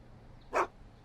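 A single short, faint dog bark rings out once in the Back to the Future video game, brief and isolated against quiet background.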